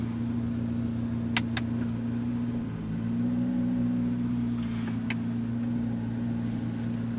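Chevrolet Corvette C8 Z06 with a 5.5 liter flat-plane-crank engine drives at a steady cruise, a low, even engine drone heard from inside the cabin, with a faint rise in pitch midway and a few clicks over it.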